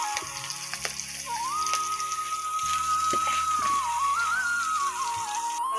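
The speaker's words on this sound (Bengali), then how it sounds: "চিংড়ি মাছের মাথা ভাজা করে মাথাটা খেয়ে দেখবেন কিরম" Prawn heads fry in a hot pan, giving a steady, even sizzle with occasional pops and crackles, close by and uninterrupted, while a thin tonal whine runs faintly underneath.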